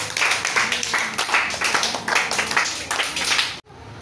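Children applaud in a classroom, a dense, steady patter of many small hands clapping at close range before stopping abruptly near the end.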